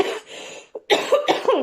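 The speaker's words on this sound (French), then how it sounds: "Ah, excusez-moi, j'ai encore une toux." Several close coughs in quick succession from a woman with asthma, loud harsh bursts separated by brief gaps and no talk.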